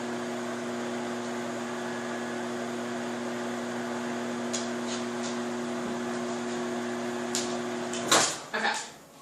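A microwave oven hums steadily while heating chicken Parmesan, its motor and fan drone continuous for most of the span, then a few clicks and clunks of handling come near the end.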